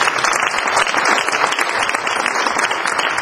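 A reception audience applauds steadily, many hands clapping at once in a loud, continuous, dense wash of applause with no pause.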